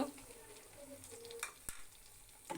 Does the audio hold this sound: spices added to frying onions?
yes